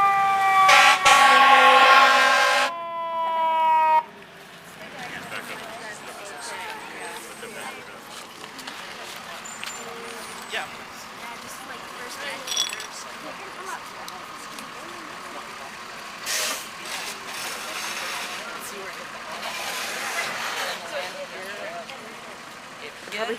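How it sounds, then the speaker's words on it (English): A fire truck arriving at a small-plane crash scene, its siren wailing loud and close for a few seconds before cutting off, leaving engine rumble and background noise with people talking. "And here comes the fire truck."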